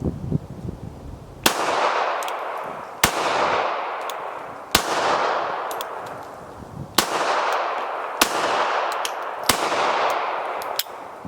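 Browning Model 1910 pistol fired one-handed, about seven sharp, loud shots spaced roughly a second or more apart, each with a ringing metallic clang and a decaying echo, no talking.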